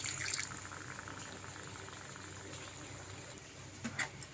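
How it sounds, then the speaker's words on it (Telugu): Water poured into a pan of small fish and drumstick curry, a soft, steady splashing wash that runs fairly quietly and evenly throughout. "ఇప్పుడు కొంచెం వాటర్ పోసుకుందాం"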